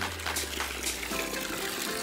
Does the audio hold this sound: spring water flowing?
yes